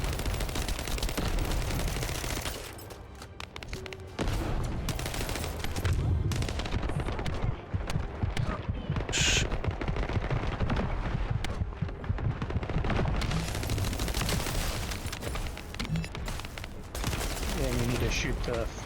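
Gunfire in The First Descendant video game, dense continuous bursts and booming shots running almost without pause while players talk over it.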